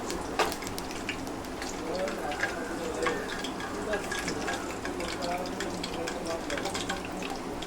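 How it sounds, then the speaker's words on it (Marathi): Masala crackles and sizzles in hot oil for prawn biryani, a steady close frying hiss with small pops, while people chat quietly underneath. "त्यात मसाला फ्राय करून घ्यायचा ना."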